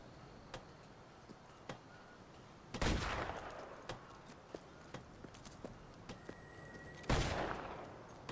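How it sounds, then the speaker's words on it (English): Mortar practice shots fire in the video game Fable III as two loud booming blasts several seconds apart, each trailing into a rumble. Sharp clicks and taps sound in between over quiet background ambience. "Go on, grab the mortar and we'll do some practice shots."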